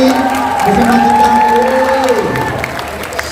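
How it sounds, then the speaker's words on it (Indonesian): A lively crowd at a young people's victory celebration claps and cheers for deaf attendees, a loud and continuous wash of applause with whoops and shouts mixed in. "Tepuk tangan untuk teman Tuli yang hadir hari ini bersama kita."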